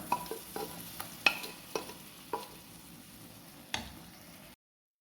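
Pressure-cooked lemons are tipped into frying masala for lemon pickle: a low sizzle broken by several distinct scraping and knocking utensil taps, ending in a sudden cut to silence.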